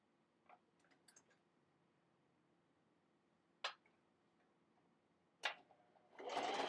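A few faint clicks and taps of fabric being handled lead up to a sewing machine starting a loud, fast burst of back stitching through fabric and batting for a fabric bowl koozie at the very end.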